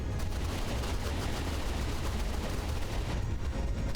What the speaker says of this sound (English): Machine guns are machining.